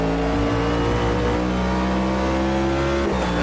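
A NASCAR Next Gen race car engine in the Automobilista 2 racing game at Le Mans, roaring loud and steady at high revs with a sustained harmonic whine and a brief dip near the end, no talk.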